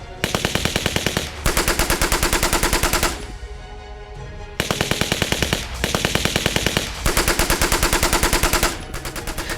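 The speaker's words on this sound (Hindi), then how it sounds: "देखिए कैसे विद्रोही लड़ाके अत्याधुनिक हथियारों के साथ बीच सड़क फायरिंग कर रहे हैं।" Automatic gunfire from rebel fighters celebrating in a city street in Hama, Syria: loud, sustained rapid bursts of machine-gun fire, broken by two brief pauses, with no talking.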